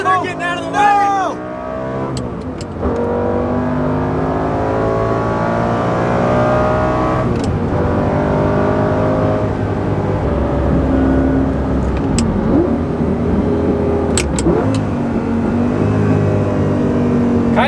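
A 2006 Lamborghini Gallardo with a six-speed manual revs and accelerates hard from inside the cabin with the windows down, its loud engine note rising and shifting through gears while people talk over it.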